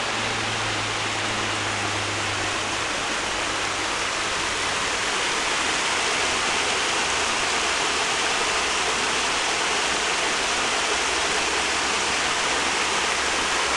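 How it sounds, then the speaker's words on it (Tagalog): Steady broadband rush of water flowing continuously through a running irrigation canal, unobstructed, heard close and even throughout with no speech. "so makikita nyo naman tuloy-tuloy naman yung tubig"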